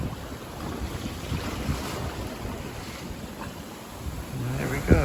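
Ocean waves slosh against the hull of a boat on a passage from Mourilyan Harbour toward Cairns, a steady washing rush mixed with wind buffeting the microphone, close and continuous with a slight swell near the end.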